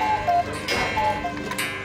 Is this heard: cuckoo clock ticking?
yes